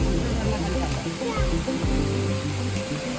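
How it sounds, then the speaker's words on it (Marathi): Roaring waterfall on a trekking route toward Bhimashankar, a steady dense rush of falling water close by and filling the whole clip. "धबधबा आलेला आहे परत."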